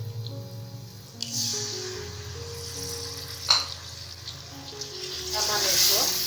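Yogurt added to mutton frying in a pot for white mutton yakhni pulao, giving a steady loud sizzle that swells as it goes in, with a low background hum and a brief clatter midway.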